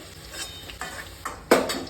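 Potatoes fry in hot oil with a close, crackling sizzle, broken by a few sharp scrapes and clinks of a utensil stirring in the pan, the loudest near the end.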